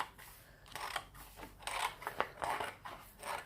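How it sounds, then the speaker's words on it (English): Scissors cut through heat transfer vinyl with a series of close, crisp snips and crunches, about six or seven cuts in quick, uneven rhythm. "I'm going to use my scissors and then I will cut across"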